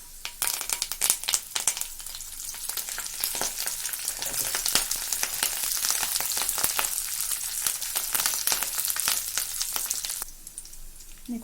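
Curry leaves and garlic crackle and sizzle steadily in hot oil in a pan, a dense, close frying hiss that stays loud for about ten seconds before dropping away near the end.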